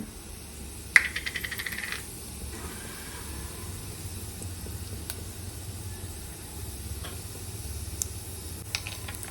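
Mustard seeds and cumin crackle in hot oil while tempering dal, with a quick cluster of sharp pops near the start, a few later isolated snaps, and a soft steady sizzle underneath.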